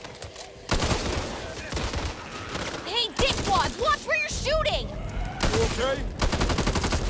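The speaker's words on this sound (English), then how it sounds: "Watch where you're shooting!" Automatic gunfire from the video game Back 4 Blood cracks out in loud, dense bursts, with a pause between volleys and voices calling out over the shooting.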